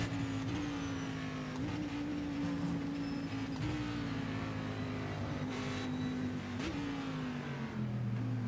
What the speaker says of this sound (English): Gotta blip the downshift.